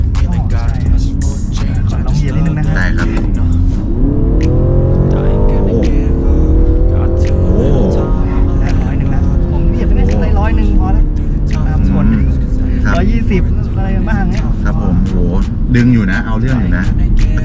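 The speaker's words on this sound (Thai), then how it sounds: "ผมสังเกตว่าเสียงเครื่องเขาเพราะมากเลยอ่ะ ใช่ครับ โห นี่ขนาด 4 สูบนะเนี่ย" A four-cylinder BMW 330e LCI G20 engine hums and revs, pitch rising and falling as it accelerates, while people talk over the steady drone.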